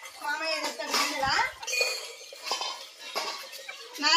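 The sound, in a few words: clinking bowls and dishes being brought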